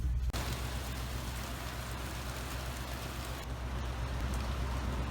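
Steady rain pours down outdoors on a farm, a dense continuous hiss of drops with a low rumble beneath, loud and unbroken throughout with no voices.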